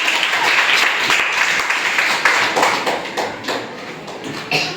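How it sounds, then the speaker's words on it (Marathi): Clapping from schoolchildren and teachers during a quiz at a district council model primary school, a brisk round of applause with sharp individual claps and taps, fairly close and fading toward the end. "सगळ्यांनी टाळ्या"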